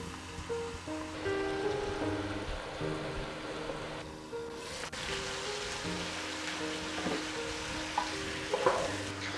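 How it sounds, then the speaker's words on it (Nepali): Chicken pieces frying in a pan for a restaurant-style gravy give a steady, crackling sizzle with occasional louder spits, heard over soft background music. "अब चिकन लगाउँदैछु।"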